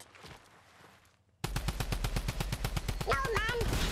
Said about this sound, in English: Let's shoot the flipping petrol pump.